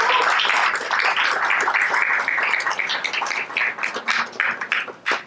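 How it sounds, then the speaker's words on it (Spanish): An audience at an academic presentation gives a steady round of clapping after a sung performance; the applause is dense at first, then thins into scattered claps as it fades. "Aplausos."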